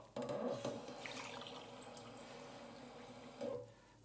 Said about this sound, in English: They're gonna add in water